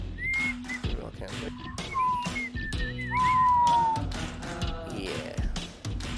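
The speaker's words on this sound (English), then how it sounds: "take any sort of song, usually a fairy tale type song, you whistle it real slow" Slow, wavering whistled melody of a fairy-tale style tune, a few drawn-out notes with gliding pitch, mixed with nearby chatter and brief laughter.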